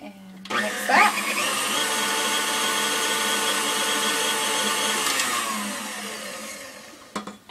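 An electric mixer runs at low speed through sour cream donut batter with a loud, steady whir that starts abruptly and stops near the end, with brief clatter at its edges.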